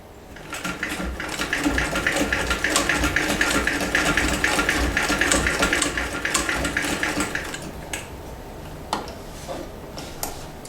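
A vintage Singer 206K sewing machine stitches through denim, a steady fast mechanical whirr and ticking running continuously for about seven seconds, then slowing into a few scattered clicks and taps.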